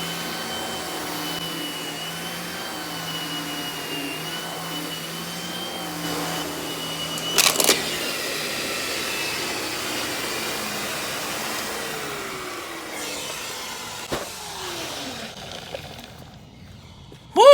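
Vacuflo central vacuum with a TurboCat power head running over carpet, a steady loud whine with a few brief clunks and pitch dips toward the end.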